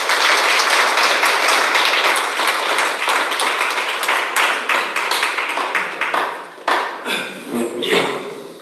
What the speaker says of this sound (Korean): 나오실 때 환영의 박수